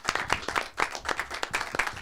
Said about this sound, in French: Déjà, on applaudit Caroline, s'il vous plaît.